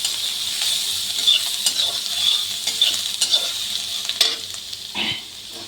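Potatoes and onion frying in a pan for a rohu fish curry, stirred with a utensil: continuous hissing sizzle with repeated scrapes and clinks of metal against the pan, close and without talk.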